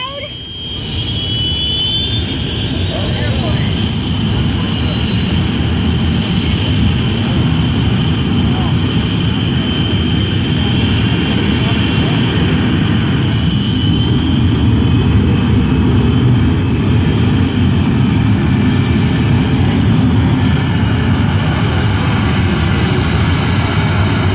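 An unlimited-class pulling tractor, the Four Aces, roars at full throttle with a high turbine-like whine, loud and sustained, building slightly as it pulls, its wheels spinning over 100 mph at an NTPA tractor pull in Rockwell, Iowa.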